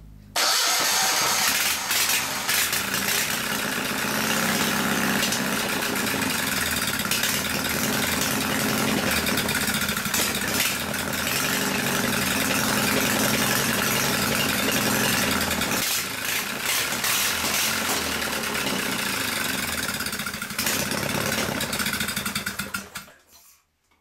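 Go-kart engine that is leaking fuel starts and runs at a loud, rough, rattling idle for about twenty seconds before cutting out abruptly, with no talking.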